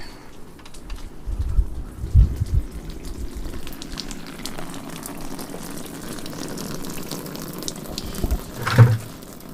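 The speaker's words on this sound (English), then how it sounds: "I'm pretty impressed with this pump, I think. Little Giant is the name of the company." A Little Giant water pump runs steadily, pushing water with a continuous splashing, trickling rush and a few louder gurgles and spurts near the start and end, close by, with no talking.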